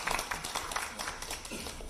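Audience applause greeting a lawmaker arriving at a People Power Party capital-markets meeting, a steady dense patter of many hands filling the room with no voices over it.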